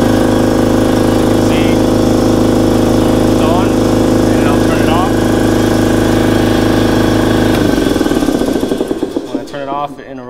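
An industrial air compressor runs loud and steady with a constant low mechanical drone, then winds down in the last few seconds as the motor slows and stops.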